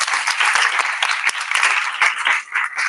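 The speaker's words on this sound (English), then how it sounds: "let's give a big round of applause to these courageous women and men" An audience at a panel event applauds the speakers, a dense, loud burst of many hands clapping that holds steady for a few seconds and then begins to thin out.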